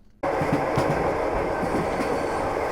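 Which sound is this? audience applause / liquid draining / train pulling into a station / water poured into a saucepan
train pulling into a station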